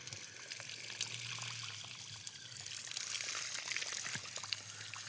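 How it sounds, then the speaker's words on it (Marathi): Water runs from a pipe to irrigate a farm field beside a river with maize planted nearby. It makes a faint, continuous trickling pour with small splashes, steady throughout and heard at a distance. "पाहू शकता आपण पाणी पण मारत आहे."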